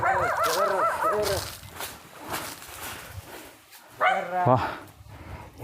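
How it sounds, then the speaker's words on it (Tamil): A dog barks at a house in a forest settlement, giving a burst of close, loud barks, then a quieter gap, then another run of barks, with people talking and footsteps nearby. "அப்பா இங்கே ஒரு நாய் இருக்கு"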